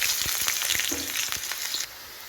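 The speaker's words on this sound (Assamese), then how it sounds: "মোৰ তেলখিনি গৰম হৈ গৈছে, চাব পাইছে। ইয়াতে মই পিঁয়াজ দি দিছোঁ" Onions dropped into hot oil fry with a steady, loud sizzle, with a few soft clatters of stirring, for cauliflower roast; the sizzle drops sharply in level near the end.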